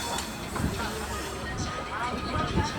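A passenger train rumbles and hisses as it turns from the Mumbai–Howrah main line onto the Bhusawal bypass line, its steady clatter running under someone talking.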